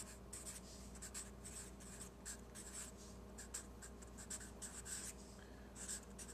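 A pen scratches steadily as a physics equation is written out, close and quiet, in a rhythm of short repeated strokes with brief pauses between them.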